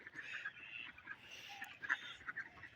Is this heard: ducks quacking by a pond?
yes